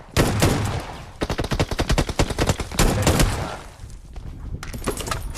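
Gunfire in the mobile battle royale game PUBG Mobile: rapid bursts of automatic shots in quick succession, with brief pauses between volleys, loud and dominant with no talk over it.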